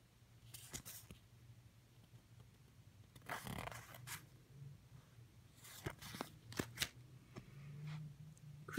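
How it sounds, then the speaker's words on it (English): Quiet riffling and soft slaps of Magic: The Gathering cards being shuffled, in several short bursts close by over a faint background hum. "I'm just gonna shuffle."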